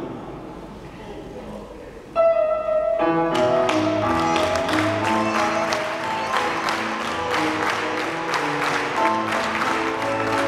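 An audience claps palmas in a steady rhythm along to a live flamenco song, the sharp, dense clapping starting abruptly and continuing loud throughout, with music underneath.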